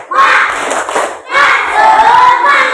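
A fifth-grade class doing a spirit clap, two loud bursts of shouting and clapping from many children close by, separated by a brief dip.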